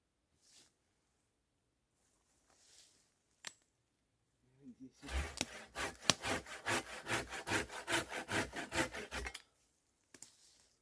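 A small hand saw rasps rapidly through wood in a steady back-and-forth rhythm for several seconds, close up, with a few quiet knocks before and after.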